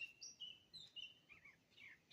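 Birds chirp and tweet at a campsite in quick high bursts, several calls overlapping at a modest distance with no voices present.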